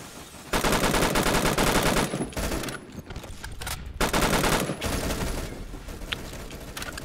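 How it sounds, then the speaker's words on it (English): Rapid gunfire from a gun in the video game Roblox, dense bursts of automatic shots with short gaps between volleys, loud and close with no talk. "Apparently my gun shoots sniper bolts."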